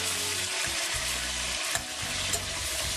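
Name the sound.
vegetables, onions and tomatoes, frying in a pan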